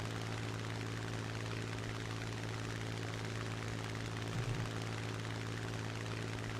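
Propeller warplane engine in a realistic-battle flight game, a constant loud droning roar with a low steady hum that holds unbroken the whole time, no voices over it.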